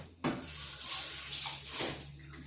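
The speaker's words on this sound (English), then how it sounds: "I'm going to wash the can off." Tap water runs over the top of a tin of mackerel, a steady close splashing rush lasting most of the moment with small swells as the can shifts under the flow.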